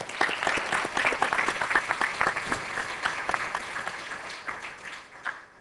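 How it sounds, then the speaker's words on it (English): Audience applause at a Morehouse School of Medicine Match Day ceremony in 2007, a steady wash of many hands clapping throughout, fairly close and full, slowly thinning toward the end with a few isolated claps. "I would really, like to give them a round of applause"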